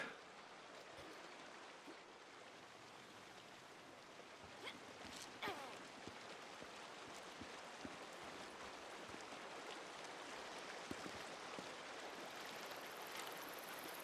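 A creek in the video game Days Gone flows steadily, its soft, continuous rushing water broken by faint trickles and splashes, low and even throughout with no voices.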